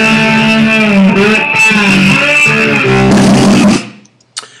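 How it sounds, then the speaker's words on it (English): Free music loop playing in the Aviary multi-track audio editor, a loud, dense electronic passage with distorted sustained tones that stops abruptly, followed by a brief click. "I'll turn the audio up so you can maybe hear it in the background."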